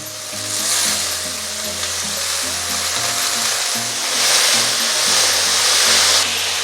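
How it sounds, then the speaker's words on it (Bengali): Chopped onion and potato hit hot mustard oil for an egg and potato curry, giving a loud, steady, close sizzle that swells and eases without pause, with a faint low hum beneath. "তেল গরম হয়ে গেছে। প্রথমে দেব পেঁয়াজ কুচানো, দেব আলু"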